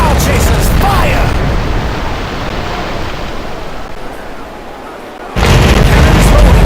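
Bow chaser cannons firing from a ship in the naval video game Commander Conquest of the Americas, a loud rumbling blast that fades over several seconds before a second sharp boom erupts.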